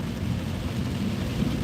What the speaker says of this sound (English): it is raining pretty good this morning. One of the heaviest rains we've had in a long time